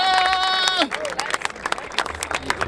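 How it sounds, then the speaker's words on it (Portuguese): Crowd cheering and clapping at an outdoor Brazilian freestyle rap battle, with a sustained whoop giving way to scattered, close claps and shouts over a few seconds. "Palmas pra essa batalha!"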